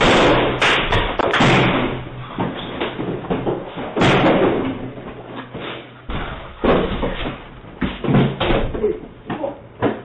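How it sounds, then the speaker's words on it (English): Heavy thuds and slams strike repeatedly against a residence door at night, loud and close, with irregular pounding and scraping as it is forced in. "a man without a shirt breaks into a residence and smashes the door down"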